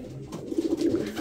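Breeding-season pigeons in a snowy loft give a short run of soft, low rhythmic coos, close and clear, with no talking.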